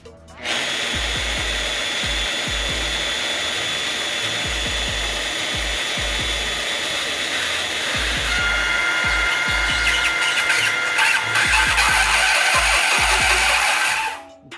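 A Walter IceCut 250P mag-base drill runs its motor loud and close while power tapping, keeping up a continuous high whine with rhythmic low thumps throughout, and the tone grows harsher and grinding in the second half before stopping.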